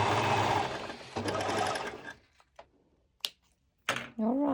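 A sewing machine stitches a lettuce-edge ruffle on a fabric scrunchie, running in two close, steady bursts of rapid mechanical whirring, followed by a few sharp clicks and a brief voice at the end.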